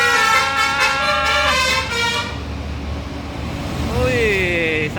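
Several Blue Star buses sound their telolet horns near a toll gate, a loud run of repeated musical toots followed after a pause by a rising melodic blast over traffic rumble.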